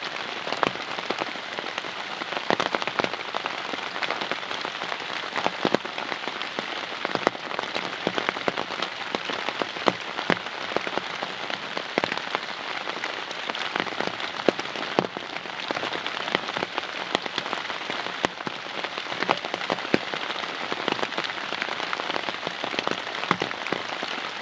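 Steady rain patters on surfaces at a wilderness campsite, with dense, continuous drops and occasional sharper splats heard alone throughout.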